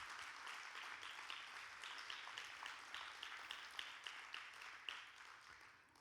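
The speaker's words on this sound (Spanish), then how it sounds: "¿Cuántos pueden darle un fuerte aplauso a nuestro Dios?" Church congregation clapping during a sermon, a sustained wash of applause heard faintly and at a distance, without speech.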